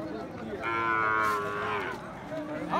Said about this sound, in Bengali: এখানে একটি সাইওয়াল ষাঁড় বাছুর দেখছি।